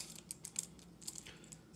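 Light clicking and rattling of a Chroma V2 balisong trainer being flipped, a quick irregular series of small sharp clacks, close but faint.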